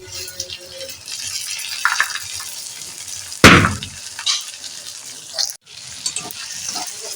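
Onion, garlic and chopped tomato fry in refined white oil with a steady close sizzle, broken by the clatter of a spatula scraping the pan and one loud stirring burst midway.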